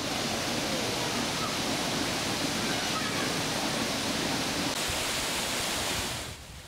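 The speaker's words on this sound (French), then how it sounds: "De nombreuses cascades dévalent les pentes des volcans qui entourent la petite ville de Baños" Waterfalls cascade down volcano slopes around the small town of Baños, a steady broadband rushing roar that holds constant and then drops away at the very end.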